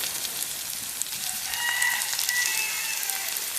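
Fish oil with green chili paste, turmeric and salt fries in a pan, giving a constant close hiss of sizzling with faint sputters throughout.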